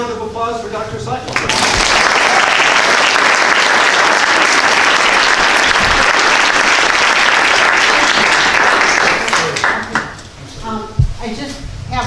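Audience applause for a speaker after a talk on climate change and human health, a loud sustained burst of many hands clapping that swells in and fades toward the end, with talk before and after it.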